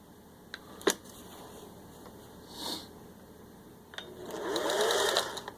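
Serviced 1957 Singer 401A cam embroidery sewing machine, a close mechanical whir with a couple of sharp clicks, then a short louder burst of stitching toward the end, no talk over it.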